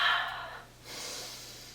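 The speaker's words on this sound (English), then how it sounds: "let's take a deep breath" A soft, close breath drawn in and then let out slowly, a gentle airy rush followed by a quieter exhale, alone in a calm indoor room.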